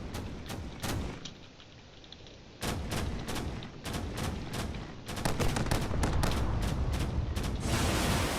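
A spaceship turret in Drone Wars fires rapid, sharp repeated shots in uneven bursts that grow denser toward the end, loud and close with no talk.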